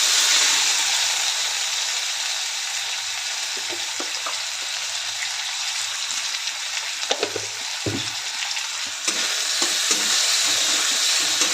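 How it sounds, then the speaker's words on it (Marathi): Onion and tomato frying in a pan for a village-style okra dish, a loud, continuous close sizzle with occasional scraping and clinking of a spoon as the mixture is stirred. "त्यानंतर कांदा, टोमॅटो चांगलं भाजून घेऊया."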